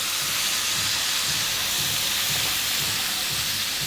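Pork, bell pepper and carrot sizzle in a hot pan, a steady, loud, even hiss with faint crackle and no talking.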